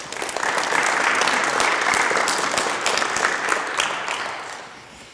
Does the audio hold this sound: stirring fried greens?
no